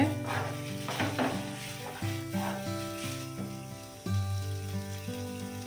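Flat beans with shrimp paste being stirred and fried in a pan, a soft continuous sizzle with scraping stirs, partly under steady background music.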